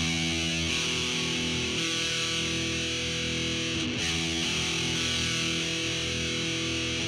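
Distorted heavy metal electric guitar rings out with single notes picked one after another, each sustained and buzzing with heavy gain, alone and loud throughout.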